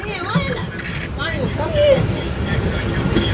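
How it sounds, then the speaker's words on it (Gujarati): A moving train on a Bhavnagar to Dwarka journey rattles and rumbles steadily, with squealing metallic tones rising and falling over the clatter. "અને ટ્રેન બહુ હદબાર વગરની હલ્લે છે."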